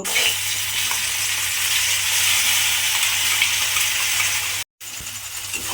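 Pointed gourd seed paste frying in hot oil while being stirred, a loud continuous sizzle with steady crackle close by, briefly cut off near the end before resuming.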